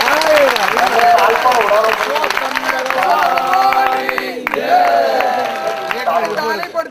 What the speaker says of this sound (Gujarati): તાળી પડતી નથી ભાઈ બરાબર